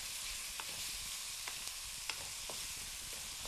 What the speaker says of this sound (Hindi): चॉप को आप स्टर फ्राई करते रहिए